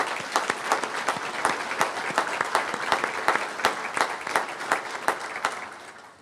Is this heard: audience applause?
yes